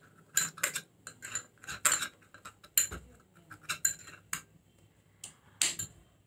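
An oats face pack mixed in a small bowl, with quick clinking and scraping taps of a spoon against the bowl in irregular bursts, close and fairly crisp, with quiet pauses between strokes.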